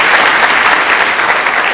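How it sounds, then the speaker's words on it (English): Full, loud round of applause at a National Honor Society induction ceremony, a large crowd clapping in a dense, even roar with no talking. "Let's give him a quick round of applause."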